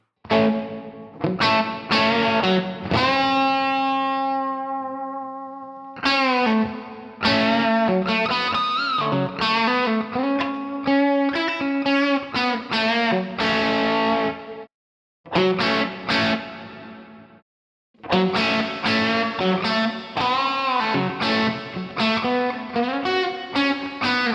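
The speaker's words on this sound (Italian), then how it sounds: "C'è pure un riverbero chiaramente ispirato al Lexicon, sentiamo anche questo, disattiviamo il plate." Electric guitar run through a Lexicon-style reverb emulation in UAD Paradise Guitar Studio, plate switched off: strummed chords and single-note riffs with audible reverb tails, loud and continuous, breaking off briefly near the middle before the playing resumes.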